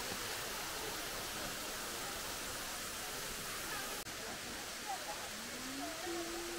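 The waterfall at Anachadikuthu gives a steady, even rushing roar that is fairly faint and distant, with a brief bump midway and faint tonal traces near the end.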